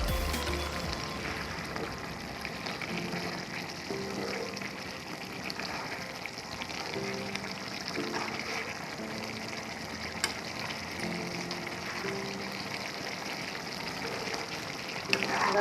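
Meat and potatoes frying in a pan, a steady soft sizzle and crackle running throughout with occasional faint scrapes of stirring, fairly quiet and close.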